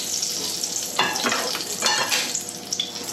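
Chicken pieces pan-frying over medium heat for chicken parmigiana, giving a steady, close sizzle with bursts of stirring and shuffling in the pan, with no voices.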